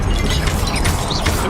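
An Expelliarmus disarming spell is cast in Hogwarts Legacy, giving a loud, dense whooshing magical blast that fills the whole moment with rumbling low end and bright shimmering streaks.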